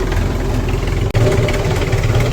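A spraying tractor's engine runs loudly and close, a steady rumbling drone with one brief cut-out partway through.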